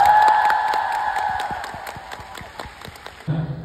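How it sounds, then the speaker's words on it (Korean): A crowd at a solo pop concert claps in a loose rhythm with faint cheering, a steady tone from the venue sound system lingering underneath before it cuts off and louder crowd noise rises. "박수 한번 주세요"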